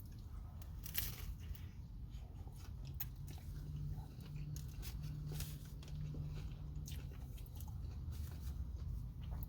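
Close-up crunchy chewing of a Taco Bell taco with a soft outer shell and crunchy inner shell, repeated crisp bites and crackles over soft mouth noises, no talking.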